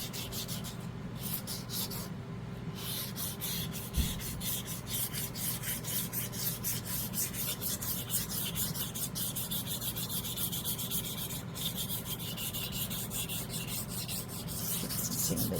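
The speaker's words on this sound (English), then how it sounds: "Sand these edges here first." Sandpaper rasps continuously over the edges of a resin piece in quick, steady back-and-forth strokes, close and quiet with no talking.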